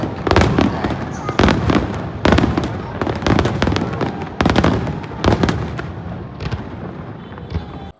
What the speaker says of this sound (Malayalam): ഫയർ ഷോ നടന്നുകൊണ്ടിരിക്കുകയാണ്. ഫൈനൽ ലാസ്റ്റ് ഇതാണ്.